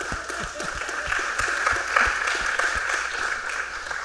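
Applause from an audience at a youth town hall: a steady, moderately loud wash of many hands clapping with scattered sharp individual claps, continuing throughout without speech.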